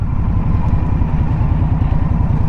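A 2022 Indian Scout Bobber motorcycle engine runs close by with a steady, throbbing low rumble and no clear rise in revs, heard alone.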